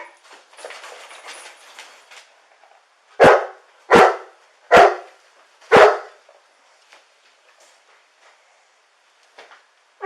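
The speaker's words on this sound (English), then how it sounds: "Our dog's not happy we're here." A dog barks four times in a steady, evenly spaced run, loud and close by an indoor doorway, sounding agitated at visitors; softer shuffling and faint noises fill the quieter stretches before and after.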